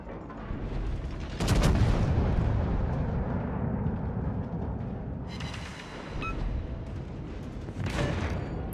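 Heavy booming salvos from battleship guns in a naval combat game, a sustained rumbling roar with sharper blasts near the start and end, loud and close.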